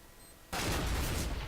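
A sudden loud burst of gunfire and a grenade explosion in a Counter-Strike match, a dense blast that starts abruptly after near-quiet and rumbles on for about a second.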